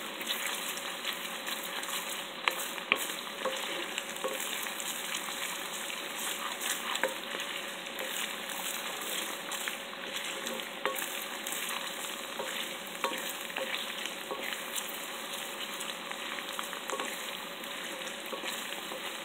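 Garlic fries in hot oil for homemade garlic chili oil, giving a continuous bright sizzle with faint scrapes and taps as it is stirred steadily in the pan.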